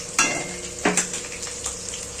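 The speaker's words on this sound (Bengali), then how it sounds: "এদিকে আলুটা ভাজা ভাজা হয়ে এসছে" Potatoes fry in hot oil and spices for a fish curry, a steady sizzle broken by two sharp stirring scrapes and clatters near the start, close and fairly loud.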